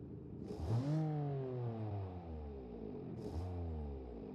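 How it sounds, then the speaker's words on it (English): A simulated 3-cylinder engine in a 1974 family car from a video game revs twice, each time rising sharply and then falling back slowly through the gears, heard alone and fairly quiet. "It has a pretty meaty sound for a 3-cylinder."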